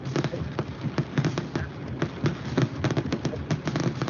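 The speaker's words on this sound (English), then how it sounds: "you'll see the fireworks" Fireworks exploding over the island of Madeira, a dense crackling barrage of rapid bangs and pops with a steady rumble underneath, heard at a distance and continuing without a break.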